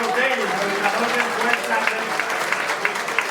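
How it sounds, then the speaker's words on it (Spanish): Audience applause at a Spanish-language political conference, a steady moderate clapping wash with a few sharper claps poking out and faint voices mixed in. "Fuerte el aplauso a don Manolo Botello, coordinador de"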